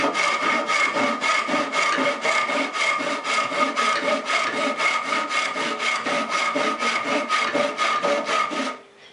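A cheap tenon saw cuts through wood in steady, even back-and-forth strokes, about three per second, close and loud, running continuously before stopping at the end.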